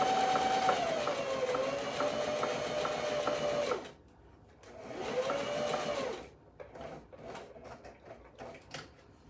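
A sewing machine stitches a dress bodice in two steady whirring runs, the first about four seconds and the second shorter after a pause, with a pivot at a corner between them and faint handling clicks afterward; no one speaks.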